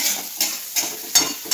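Onion sizzling in a pan with cumin and mustard seeds during home cooking, heard as a steady fry hiss broken by four brief bursts of stirring, close and alone with no talk.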